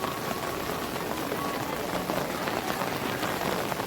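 Steady downpour in a village setting, a thick, even wash of raindrops hitting the ground and nearby surfaces, loud and unbroken throughout.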